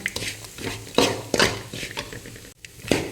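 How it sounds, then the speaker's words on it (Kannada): Salt stirred into masala in a pan, a spoon scraping and knocking against the metal in quick, uneven strokes with a soft sizzle underneath, close and fairly loud. "ಮಸಾಲೆಗೆ ಉಪ್ಪು ಹಾಕ್ಕೊಂಡು ಮಿಕ್ಸ್ ಮಾಡಿ"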